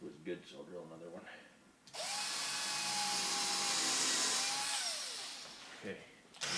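Power drill driving into wood while building a platform bed, starting abruptly with a loud, steady whine of about four seconds, the motor pitch holding then dropping as it winds down, with quieter workshop noise before and after.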